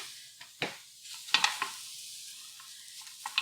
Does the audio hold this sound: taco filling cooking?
yes